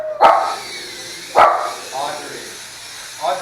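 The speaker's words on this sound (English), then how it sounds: "no barking." Sharp dog barks in a home kitchen, two loud barks about a second apart followed by softer yips and whimpers, heard alongside a person talking.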